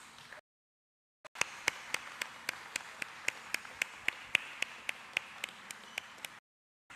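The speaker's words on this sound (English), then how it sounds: "Give them a very warm round of applause." An audience gives a round of applause for a team at a corporate event, heard as a long run of sharp, regularly spaced claps in a steady beat. The clapping begins after a brief silence and stops abruptly.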